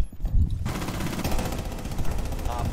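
Gunfire in Rainbow Six Siege's Quarantine mode: rapid automatic shots crackle in a dense, continuous stream after a short, quieter opening, loud and close.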